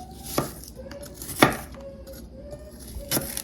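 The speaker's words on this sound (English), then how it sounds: "And then I'll just cut this into strips" An ultra-sharp Fzkaly kitchen knife chops fresh ginger into strips on a board, with three crisp separate knocks spaced out over a few seconds.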